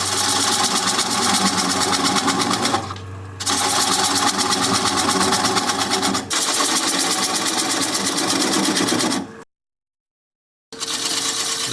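A wood lathe spins a sycamore bowl at about 500 RPM as a 3/8 inch bowl gouge cuts, giving a loud steady whirring hum broken by brief pauses and a full stop near the end.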